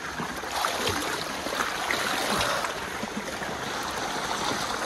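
Water pouring steadily from a tubewell outdoors, a continuous loud rushing splash with no pauses.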